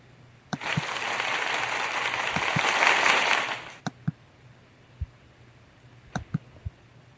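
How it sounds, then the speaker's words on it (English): A recorded applause sound effect plays for a birthday celebration, a burst of dense clapping and cheering that swells for about three seconds and then cuts off, followed by a few isolated knocks and taps in a quiet room. "Let me see, celebration. We'll do applause."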